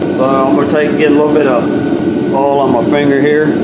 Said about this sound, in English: Excuse the noise, I had to turn the heat on.